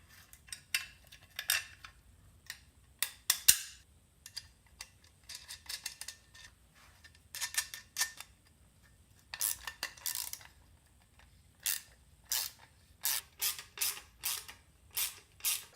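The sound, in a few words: tools mounting and bolting a bracket for an oil catch can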